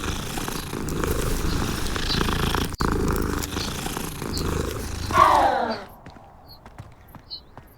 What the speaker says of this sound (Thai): ลูกแมวสิ